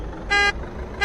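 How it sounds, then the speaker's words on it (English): Two short, bright toots of a car horn in the video game Unturned, evenly spaced and fairly loud over a low engine hum. "Do you hear my horn?"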